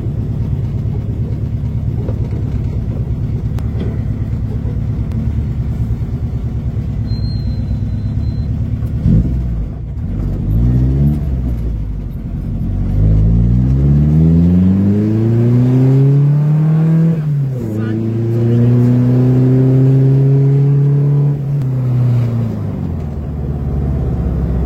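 A Vespa 400 microcar's small engine drones at cruise, then revs hard through successive gears while accelerating, its pitch climbing and dropping at each shift, loud and close inside the car.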